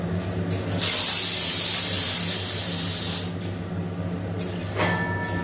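Paneer dropped into a hot pan of palak after the water has cooked off bursts into a loud hissing sizzle that stays strong for a few seconds, then eases to a softer steady crackle with a brief flare near the end.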